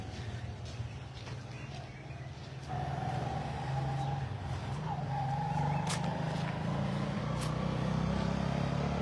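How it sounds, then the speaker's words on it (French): Cars pass on the main road leading to the airport, a steady traffic rumble that grows louder partway through, with tyre hiss and a whining tone, heard from a modest distance. "Vous voyez les voitures qui passent là."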